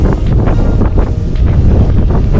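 Strong wind buffets the microphone on the foggy summit of Śnieżnik, a 1426 m mountain in Poland, a loud, continuous roaring rumble with gusting surges and no voices.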